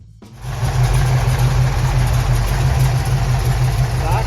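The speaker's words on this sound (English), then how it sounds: "Chrysler's 440 cubic inch V8 with 6-pack carburation represented one of the most successful compromises between big block displacement and street performance." A Dodge 440 six-pack big block V8 fires up and settles into a loud, steady, throaty idle with a deep rumbling pulse, close and alone.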